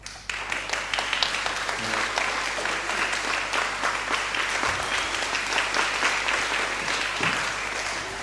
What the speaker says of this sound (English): give a huge round of applause to the students